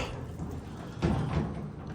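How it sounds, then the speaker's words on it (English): A heavy hydraulic freight elevator door at a shopping mall slides and closes with a low rumbling thud midway through, followed by a trailing mechanical rattle. "Closed up this door."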